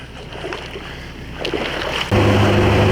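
A Sherp amphibious vehicle moving through neck-deep water on an off-road trail, with faint sloshing and wind that give way to a sudden loud engine roar near the end.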